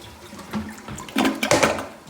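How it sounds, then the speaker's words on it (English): A newly replaced toilet flushes with rushing, gurgling water that swells in the second half, close by and fairly loud. "Flush."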